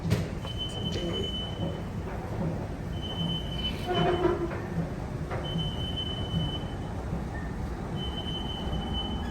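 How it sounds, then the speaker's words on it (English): A Milan metro train rumbles steadily underground, with wheel squeals and a few high tonal whines rising over the low rolling noise. "We're taking the underground today."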